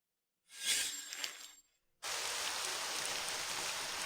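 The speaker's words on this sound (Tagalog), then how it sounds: "Napakalakas ng ulan." Heavy rain in a dramatic scene: a short gusty whoosh fades out, then a dense, loud, steady downpour starts abruptly and continues without a break.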